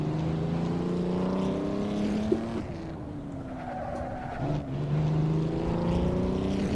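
A Mercedes engine in the Assetto Corsa racing game at Goodwood drones steadily and loudly, its pitch easing down and climbing again as the car is driven gently, with a brief tire-like chirp in the middle.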